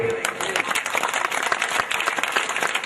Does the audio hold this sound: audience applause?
yes